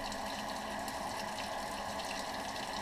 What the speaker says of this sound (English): you can backflush it like this. So using the lower rad hose and putting pressure through it